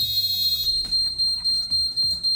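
Local sounder on a Pearl Type B fire alarm panel gives a steady, piercing electronic tone that runs loud and unbroken through the whole clip, with faint clicks and handling noises underneath.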